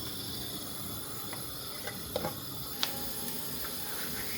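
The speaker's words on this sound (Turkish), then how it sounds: "Doğramış olduğumuz taze soğanımızı tenceremize kavurmaya bıraktık." Steady sizzling hiss of spring onions sautéing in a pot, with a few small pops and clicks over the constant frying noise.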